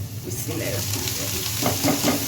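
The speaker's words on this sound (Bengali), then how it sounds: "এখানে করলা ভাজি করতেছি আলু দিয়ে বড় করলা দিয়ে" Bitter gourd pieces with potato frying in oil in a home kitchen, giving a soft, steady sizzle with occasional stirring scrapes, close by, with faint voices in the background.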